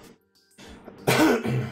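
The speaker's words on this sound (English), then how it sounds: "Sorry, didn't mean to cough in your ear." A single throaty cough from a man streaming a mobile game, close to the microphone, loud and rough, followed by a short rasping throat-clear, with no speech.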